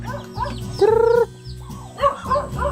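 Chickens cluck and call close by, with a sustained squawk in the middle and several choppy clucks around it, no talking.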